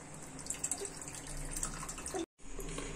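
Tamarind water is poured into a simmering pot of sundakkai puli kulambu, a soft continuous liquid trickle with a few faint drips and clinks, close and fairly quiet, briefly cutting out near the end.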